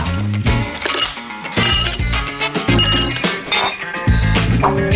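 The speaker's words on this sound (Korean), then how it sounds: "마지막으로 얼음을 넣고 좋아하는 음료수를 넣어주세요" Ice cubes clinking and tumbling into a glass, a rapid cluster of sharp, bright clinks and knocks repeating throughout, close and fairly loud.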